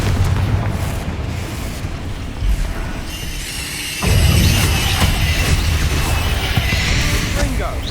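Confringo explosive spell cast in Hogwarts Legacy, erupting as a sudden loud blast partway through, followed by crackling, rumbling debris and magical shimmer over ongoing combat sounds.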